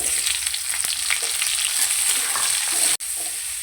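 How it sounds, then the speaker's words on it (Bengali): Chopped onion frying in hot oil over whole cumin and dried chilli for a snail-and-potato curry, a loud continuous sizzle with occasional spoon scrapes, briefly cut off near the end. "পেঁয়াজটা ভালো করে ভেজে নেব"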